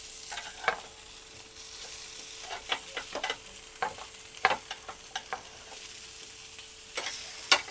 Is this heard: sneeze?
no